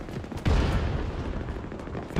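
Sci-fi shock rifle fire in a first-person shooter video game: a single loud energy blast with a sharp low-end thump, followed by a sustained noisy wash of game sound.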